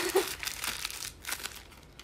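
Mermaid-patterned gift wrapping paper crinkles and rustles close up in short, soft bursts while a birthday present is being opened.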